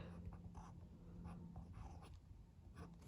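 A dip pen fitted with an architect nib scratches across paper in short downstrokes and upstrokes, faint, close-up scraping bursts with brief pauses between them.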